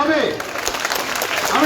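Applause from an audience at a school felicitation programme in Islampur honouring student Rubel Ali, a steady wash of clapping with a voice speaking over it.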